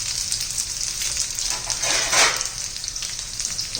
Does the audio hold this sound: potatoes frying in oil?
yes